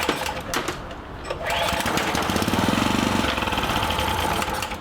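A generator engine, left over from Hurricane Sandy and suspected of a bad carburetor, is cranked and sputters into a rough, uneven running drone after a few pulls, loud and close.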